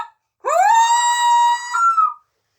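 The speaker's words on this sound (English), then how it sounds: "For those good coyote howls" A single long coyote howl blown on a hunting call, rising into a sustained clear wail that breaks and lifts at the end before cutting off, loud and close with nothing else around it.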